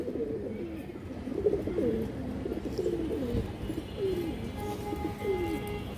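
Silver female pigeons cooing close by, a string of soft repeated throaty coos in a steady rhythm over faint background noise, with no talk.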